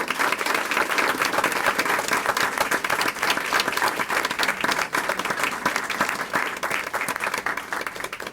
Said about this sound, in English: round of applause for all the silver winners.